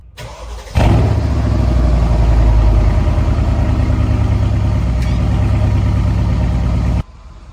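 A Mercedes ML 63 AMG converted to GLE 63 bursts into life on a cold start, a loud sudden engine roar that flares and then settles into a steady, heavy high idle for several seconds before cutting off.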